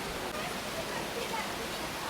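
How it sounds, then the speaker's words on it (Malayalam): Steady broadband rush of the Yeddi waterfall in Gabala, Azerbaijan, a continuous hiss of falling water that is fairly faint and even throughout, with no other clear sound over it. "വെള്ളം വീണ ഒരു സൗണ്ടാണ്"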